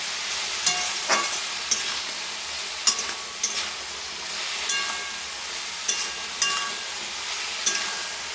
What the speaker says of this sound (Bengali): অল্প সর্ষে বাটা দেবো পরে ভালো করে কষতে হয়